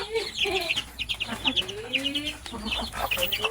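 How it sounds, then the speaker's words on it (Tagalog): Native chicken clucking nearby in a Filipino backyard setting, a quick series of short repeated clucks and chirpy calls close to the recording, loud and continuous. "Native chicken lang to, hindi to mga heritage chicken, talagang native lang to."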